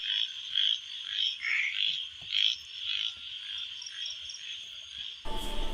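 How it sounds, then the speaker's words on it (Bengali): Frogs croak in a pulsing, rhythmic chorus with a steady insect drone behind them, heard outdoors at a rural village home on a rainy day. The sound is fairly loud and continuous, with no voices. "ব্যাঙের ডাক শুনতে পাচ্ছেন"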